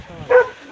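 A dog somewhere in a snowy winter village gives one short, sharp bark, loud and close, rising briefly out of a quiet background.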